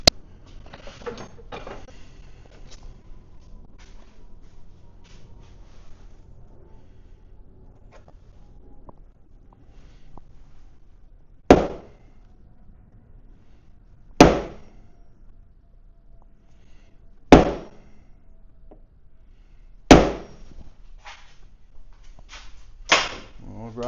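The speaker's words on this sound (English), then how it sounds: "we'll get a punch, we'll pre-drill that, and that should be good. Let me get a hammer." A hammer strikes a punch against a powder coating oven panel in five sharp metallic blows, spaced a few seconds apart, loud and close in an otherwise quiet workshop.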